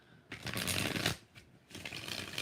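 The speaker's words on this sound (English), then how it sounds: "2 more shuffles." Tarot cards being shuffled during a live reading, two brisk riffling bursts separated by a short pause, close and clear with no talking.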